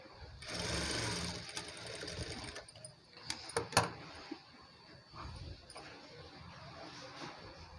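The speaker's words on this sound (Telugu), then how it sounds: "దీన్ని ఇలానే మెల్లిగా నీట్గా సైడ్స్ కొంచెం కొంచెం క్లోజ్ చేసుకుంటూ ఇలా స్టిచ్ చేసుకోవాలి." A sewing machine stitches a designer blouse in quick bursts of whirring, with pauses and small clicks and knocks from the fabric and mechanism between runs, heard close up.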